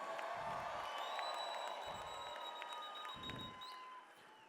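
A large graduation crowd cheers and applauds in Madison Square Garden, a sustained roar with scattered whoops and a few low thuds underneath.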